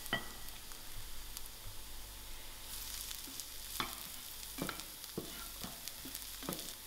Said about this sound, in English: so I'm going to put in my garlic and also my roots of the